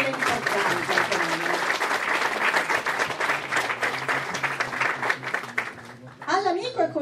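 An audience at a law award ceremony breaks into sustained, dense applause that carries on for several seconds, then fades as a voice starts speaking.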